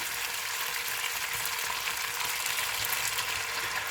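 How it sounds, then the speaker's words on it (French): Veal browned in a hot pan sizzles steadily after white wine is poured in, a dense, even frying hiss that stays loud and close throughout with no voices. "On va rajouter du vin blanc."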